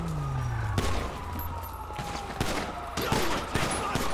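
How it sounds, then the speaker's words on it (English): Bursts of gunfire in GTA 5 Online during a police riot shootout, sharp separate shots cracking over a low engine-like drone, with a falling tone sweeping underneath. "I'm still getting shot at."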